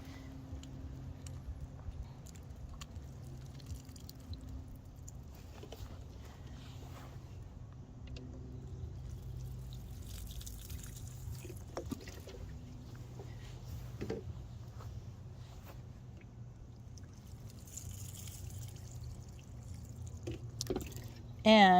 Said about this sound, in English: I'm just going to water them because they look so dry